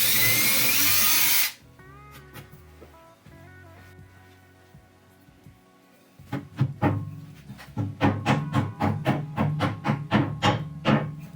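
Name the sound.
power drill drilling hole in wall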